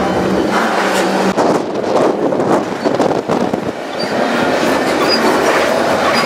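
Freight train climbing one of the steepest railroad grades in the US over the Continental Divide in Wyoming, a continuous loud rumble and roar of rolling cars with clanks and rattles, heard close with no talking.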